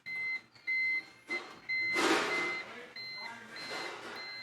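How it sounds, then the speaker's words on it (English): Several steady electronic beeps from a scale's low-reading alarm sound in short bursts, followed by rustling and handling noise that nearly drowns out the later tones. "You will hear an alarm because I'm below"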